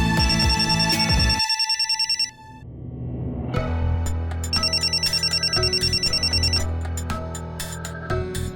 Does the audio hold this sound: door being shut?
no